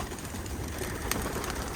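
Pigeons coo softly while being let out of their loft, low murmuring calls over a steady outdoor background hiss, with one brief sharper sound midway.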